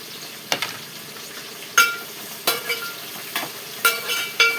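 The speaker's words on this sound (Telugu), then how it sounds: "కొంచెము కరివేపాకు వేసుకుందాం, ఇందులో కూడా కరివేపాకు వేసుకుందాం." Curry leaves hit the hot pan of a chicken leg curry, giving a close sizzle with several sharp crackling bursts and stirring scrapes spaced about a second apart.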